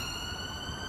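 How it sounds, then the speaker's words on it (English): An emergency vehicle siren sounds on a city street, a steady high tone close and loud through the whole short stretch over dense traffic rumble. "Let the siren go past."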